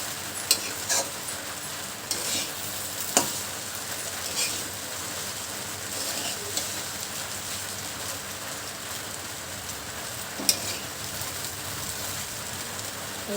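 Egg being stirred into pasta frying in a pan: a steady, rain-like sizzle with scattered sharp clicks and scrapes of the utensil, close and fairly quiet, with no talking.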